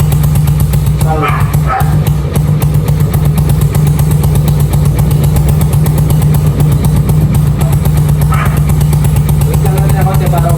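A Honda TMX motorcycle fitted with a bottle pipe exhaust idles loud and close in a steady throb, while voices talk over it.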